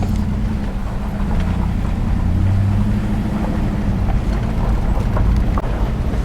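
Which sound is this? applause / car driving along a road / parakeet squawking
car driving along a road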